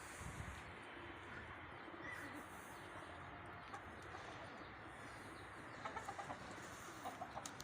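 Chickens and Aseel desi mix roosters on a poultry farm cluck and call quietly through steady outdoor background noise, with a few sharper calls near the end.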